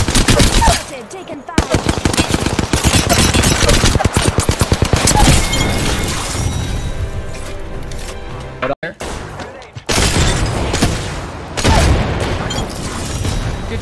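Heavy, continuous automatic gunfire from the video game Apex Legends, loud and dense, with rapid machine-gun bursts, booms and brief pauses, while voices talk over the action.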